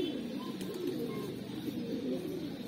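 A teddy breeder pigeon coos in low, soft, rolling murmurs, close by and fairly quiet, with a faint steady background hum.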